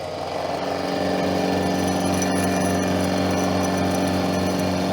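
A powered rotary head on a milling machine turns at its slowest speed while cutting a broken radial arm saw casting, giving a loud, steady mechanical drone with layered tonal hum and a brief click near the middle.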